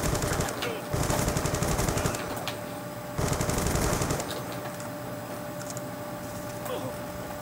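Automatic gunfire from the Black Ops 2 shooter game during a base defence match, dense rapid bursts in two loud stretches with quieter crackling shots between, mixed with game effects and a low voice.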